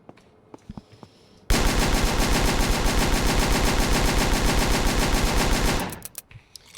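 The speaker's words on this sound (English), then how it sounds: "Fully automatic SMG. Good at close range, has a decent sized magazine." A fully automatic SMG in the video game ANEURISM IV fires one long continuous burst at mid-range, a rapid, loud, even rattle of shots lasting about four seconds, with a few faint clicks before and after.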